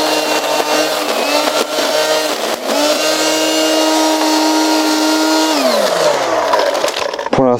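A lawn mower runs in a home garden, its engine droning loud and close without a break, pitch dipping and rising slightly as the load changes, with no talk over it.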